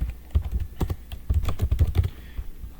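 Short command typed on a computer keyboard, a quick irregular burst of close, crisp key clicks and thumps, alone without speech.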